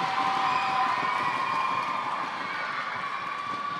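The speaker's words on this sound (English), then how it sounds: "the Gibraltar crowd just sensing the change in the match to Malta and upping the volume a bit here in the Centenary Centre" Gibraltar's home crowd cheers and roars at a Netball Europe U17 match against Malta in the Centenary Centre, a steady, dense wash of voices that swells slightly, with no one talking over it.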